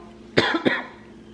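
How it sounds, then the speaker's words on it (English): Two quick coughs from a person recovering from a cold, close together, the first slightly stronger, close to the listener in a quiet room. "the more I talk, the more I cough"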